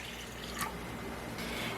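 Water is poured into a measuring cup for radish pickling brine, a brief soft trickle and splash heard close up in a quiet kitchen.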